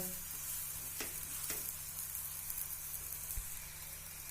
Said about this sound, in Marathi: उलटून घेऊया पराठा मस्त दुसऱ्या बाजूनी पण छान शेकून घेऊया